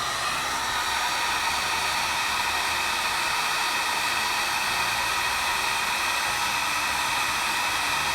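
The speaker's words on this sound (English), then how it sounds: "Grab the heat gun." A heat gun blows hot air to melt solder on wire connections outdoors, a steady close rushing whoosh that runs unbroken throughout.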